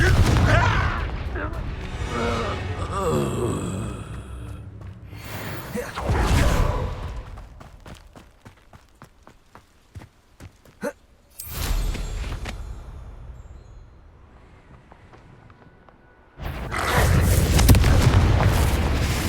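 Fiery Confringo spell blasts in the Hogwarts Legacy video game, heavy booming explosions with rumbling bursts recurring across the stretch, loud at the start and end, with sparse popping hits in the quieter middle.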